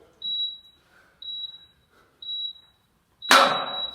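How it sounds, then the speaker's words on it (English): Workout interval timer sounding four short, evenly spaced electronic beeps about a second apart, clear and close; the last beep coincides with a sudden burst of broadband noise. "You guys hear those beeps."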